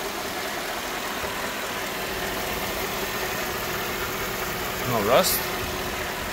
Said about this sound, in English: Engine sounds very good. I love these old Mercedes engines.